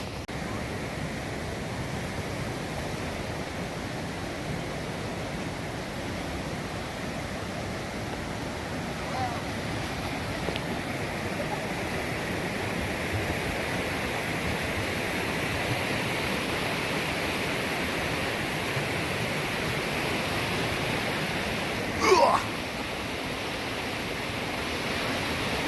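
A steady, dense rush of falling water fills the whole stretch at an even level, like a waterfall heard nearby outdoors, with one brief faint sharp sound near the end.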